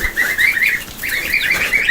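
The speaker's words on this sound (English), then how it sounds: "so the new duckies are here" Ducks calling on a small home farm in spring, a couple of short runs of high, close peeping calls with no talk.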